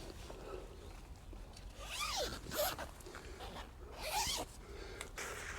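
A zipper on the door of a One Tigris Hillridge single-skin tent is drawn in two quick, close rasping pulls, quiet in between with no talking.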